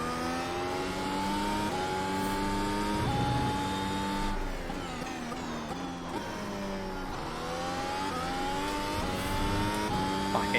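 F1 race car in a racing video game, revving and accelerating out of a corner at an old Spanish GP layout, with loud engine tones climbing through several upshifts and steady high-pitched whine throughout.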